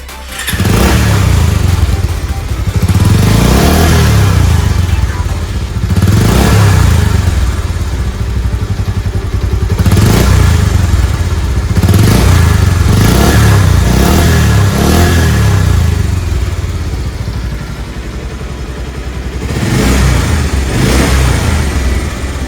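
A Bajaj Pulsar 150 motorcycle exhaust, freshly serviced, revs loudly up close, blipping up and dropping back every few seconds between short stretches of idle.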